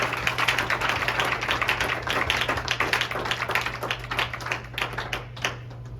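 A church congregation claps together in a fast, steady rhythm over a low sustained musical hum, dense and continuous for several seconds.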